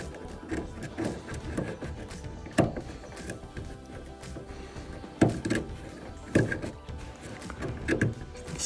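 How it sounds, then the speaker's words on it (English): Epoxy is scraped off metal inside a dead LG washer, likely with a flathead screwdriver: quiet, uneven scratching broken by several sharp knocks and clunks, close by and with no voices. "So you just gotta get that epoxy off of the metal."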